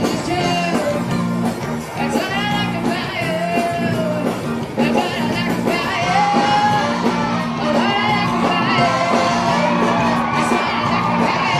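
A large crowd at a rugby sevens match roars and cheers loudly and continuously, with shouts and whoops rising and falling throughout, under a steady din of voices.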